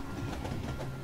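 Train rolling past in a video game, a brief steady rumble with rhythmic clattering of the wheels, close and fairly loud, alone without speech.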